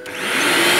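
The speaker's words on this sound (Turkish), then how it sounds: "Şimdi bakalım benim süpürgemin sesine de bakalım hadi." A toy Bosch vacuum cleaner switches on and runs with a steady, close, rising whine that quickly reaches full loudness and holds alone.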